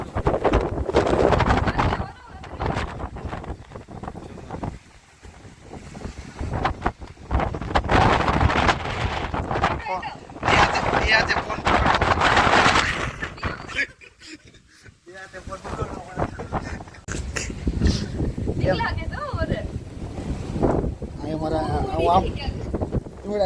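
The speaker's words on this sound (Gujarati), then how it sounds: "આ બધા બહુ પવન છે" Gusty wind roars and rumbles against the microphone in long surges during a rainstorm, easing briefly midway, with people talking at times underneath.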